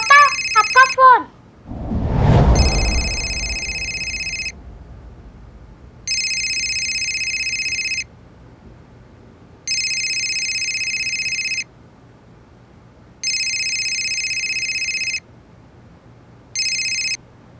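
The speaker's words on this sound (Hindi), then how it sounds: "पापा, आपका फोन।" A telephone rings in repeated even bursts with pauses between, about five rings after a brief noisy thump at the start.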